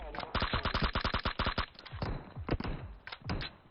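Rapid automatic gunfire in the mobile shooter PUBG Mobile, loud close bursts of sharp shots in quick rhythmic volleys, pausing briefly before more scattered shots follow.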